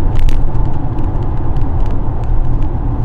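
Steady low road rumble fills the cabin of a Polestar 2 electric car, with a constant hum of tires on pavement and faint jingling rattles over the top.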